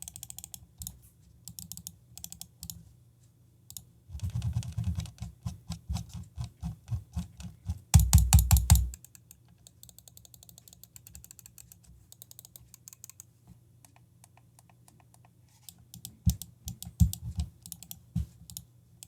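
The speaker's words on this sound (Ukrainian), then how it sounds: "Як звучить миша, давайте послухаємо прямо зараз." Clicks from a DM 8 Mini Pro gaming mouse, its buttons and scroll wheel, come as close, quiet rapid bursts and irregular runs with short pauses, one dense flurry in the middle.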